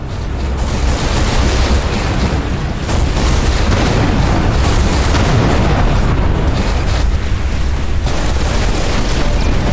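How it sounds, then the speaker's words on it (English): Torpedo explosions during space combat in the video game Everspace 2: a dense, continuous barrage of heavy booms and rumbling blasts that fills the whole stretch at high loudness, with no pauses. "Adam, there is a barrage of torpedoes incoming."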